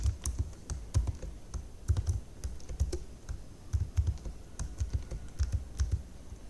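Rapid, steady keystrokes clatter on a computer keyboard as code is typed, close and fairly quiet, in an uneven rhythm of clicks with no voices.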